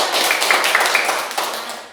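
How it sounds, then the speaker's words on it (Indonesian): Children in a classroom clap their hands after singing a Balinese folk song, a brief burst of steady, fairly close clapping that fades toward the end. "Tepuk tangan dulu"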